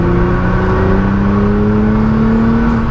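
A stage 2 tuned Nissan GT-R accelerating hard in fourth gear, a loud, continuous engine drone rising steadily in pitch, close and unbroken for the whole stretch.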